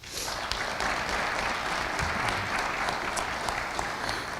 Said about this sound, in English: So we should give you a big round of applause